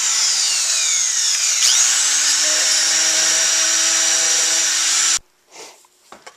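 Cordless power drill driving screws into wood: a loud, close, steady high whine that dips and rises in pitch as the screw bites, holding for about five seconds before stopping abruptly, followed by a few faint clunks.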